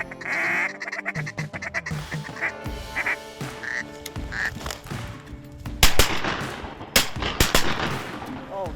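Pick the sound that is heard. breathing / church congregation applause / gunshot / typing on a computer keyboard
gunshot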